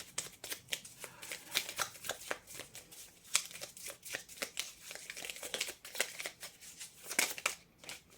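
Tarot cards are shuffled and drawn by hand, giving a quiet, close run of quick riffling flicks and soft slaps in uneven bursts, with no talk over them.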